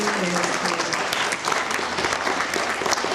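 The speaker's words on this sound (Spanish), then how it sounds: "fuerte el aplauso para Saúl, y él es del quinto grado, grupo B" Audience applause at a school reading event, a steady, dense clapping from a crowd that fills the whole stretch without pause.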